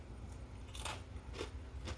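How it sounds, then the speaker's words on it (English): Crisp bites into the crunchy crust of air fryer garlic bread topped with bacon and cheese, several close, faint crackling crunches spread over two seconds with no talking. "I don't know if you were able to hear that crunch, but that was a really nice crispy crunch."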